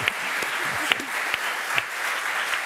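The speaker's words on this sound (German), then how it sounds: "Einen großen Applaus." Studio audience applauding on a German TV sports talk show, a steady broadband clatter of many hands with a few sharper claps standing out, faint voices underneath.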